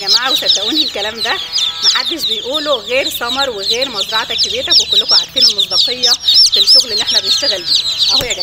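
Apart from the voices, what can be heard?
Fayoumi chicks and roosters clucking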